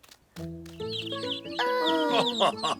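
Hens in a cartoon cluck and chatter close by, overlapping calls rising in pitch and intensity, with a busy flock sound throughout.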